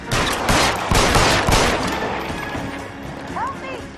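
Gunfire erupts in the 1940s Los Angeles detective game L.A. Noire: a rapid burst of loud, cracking shots in the first two seconds, fading into echoing tail and a few brief whistling sounds.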